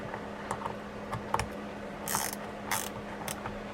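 A nut on the gear side of an Abu Ambassadeur C3 fishing reel is tightened, producing small close ratcheting clicks and a couple of brief scraping bursts over a faint steady hum.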